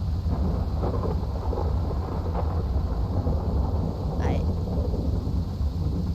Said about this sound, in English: I literally can't hear myself think over the rain.